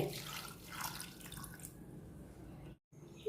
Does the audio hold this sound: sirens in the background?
no